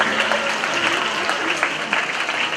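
Audience at a school Republic Day event applauding to welcome a guest, dense steady clapping from a crowd, fairly close and continuous.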